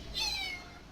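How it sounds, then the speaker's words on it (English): A house cat gives one short, clear meow close by, a single rising-falling call over faint background hum. "that's my cat."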